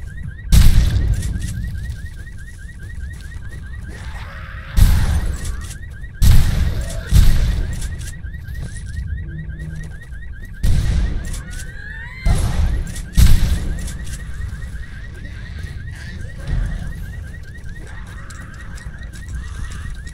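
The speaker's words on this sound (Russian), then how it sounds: "Как вырубить сигнализацию?" A car alarm in the video game Dead Island: Riptide wails on in a steady repeating pattern, loud and continuous, broken by heavy booming impacts and crashes throughout.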